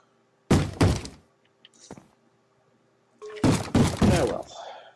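Heavy wooden thuds from a Minecraft zombie battering a door in the Tekkit modpack, arriving as a loud pair of knocks, a small clack, then another burst of pounding, close and with no speech.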